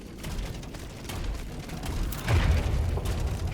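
Grenade blasts in the Steelrising action game: a heavy low boom lands partway through, rolling over a busy backdrop of clanking mechanical combat noise, with no talk.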